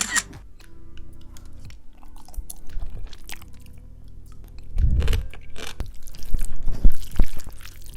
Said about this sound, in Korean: 아쉽지만 다리 붓기 빼는 동안 전 맛있게 먹고 오도록 할게요